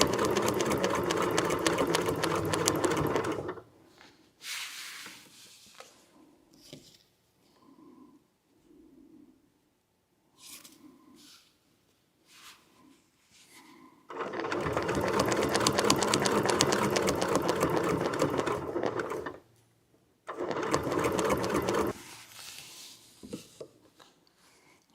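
A sewing machine stitches quilt blocks in several long, loud bursts of rapid needle chatter, separated by quiet pauses with soft fabric rustling.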